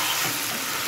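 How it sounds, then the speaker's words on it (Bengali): Meat stir-fries in a pan as it is cooked down, giving a brief, steady, close hiss of sizzling with no talking. "মাংসটা দিয়ে আরও অনেকক্ষণ ধরে কষিয়ে নেব"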